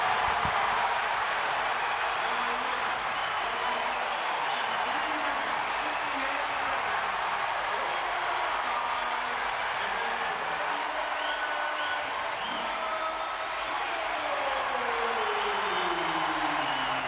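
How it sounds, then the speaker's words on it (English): A wrestling crowd at a Big Ten college match cheers and applauds in a loud, continuous roar that stays steady throughout, with faint voices under it. "this crowd goes crazy for McCrone"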